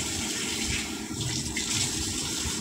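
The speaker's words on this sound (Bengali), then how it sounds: "আমি সিঙ্কটা যে রয়েছে ওটাকে পরিষ্কার করছি।" Water runs steadily from a tap while a sink is being cleaned, a continuous broadband splashing rush with no pauses and no voices.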